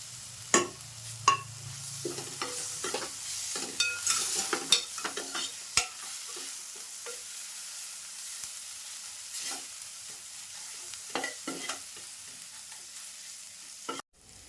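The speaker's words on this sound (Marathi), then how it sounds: "त्यातच थोडी कोथंबीर टाकते फोडणीला" A Malvani masala tempering with ginger-garlic paste and coriander sizzles in a pan for prawn and potato gravy, with repeated spoon scrapes and stirring clatters over a steady frying hiss.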